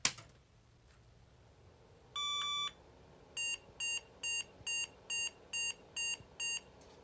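A long electronic beep followed by a series of eight short, evenly spaced beeps from a computer during startup, clear against a quiet background.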